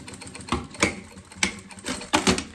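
Domestic sewing machine stitching a two-colour box-style school pencil case, heard as several short bursts of mechanical clatter separated by brief pauses, close and moderately loud.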